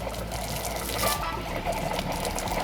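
Water rushing out of the open hot and cold low point drains under a Newmar Freedom Aire 2515 RV during de-winterizing, a steady, loud splashing gush that runs continuously without speech.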